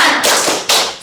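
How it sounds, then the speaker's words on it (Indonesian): A class of students standing in a classroom claps a short rhythmic morning-spirit cheer, with loud close claps in two quick bursts. "Tepuk semangat pagi."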